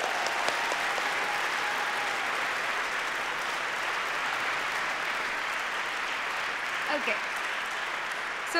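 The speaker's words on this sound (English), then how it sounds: "we would like to acknowledge them all with a big round of applause" Big round of applause from the audience at a graduation ceremony, a sustained even roar of clapping that holds for the whole stretch, with faint voices mixed in.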